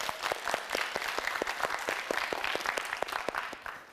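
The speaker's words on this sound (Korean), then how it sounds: "우리 새 학생에게 힘내라고 박수 한번 보내주시죠" Studio audience on a TV quiz show claps for a nervous student contestant, steady sustained applause with sharp individual claps standing out, fading slightly at the end.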